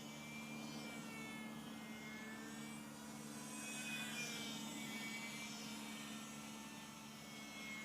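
ParkZone Ultra Micro F-27Q Stryker RC plane flying at half throttle, a faint, thin electric whine that drifts up and down in pitch as it passes, steady and distant under low background noise.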